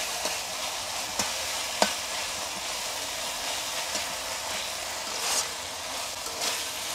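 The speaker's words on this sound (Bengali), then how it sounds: "এখন ভালো করে কষিয়ে নেব" Spices for mutton curry are stir-fried in a pan, a constant sizzle broken by repeated scrapes and clanks of a spatula against the metal, close and fairly loud.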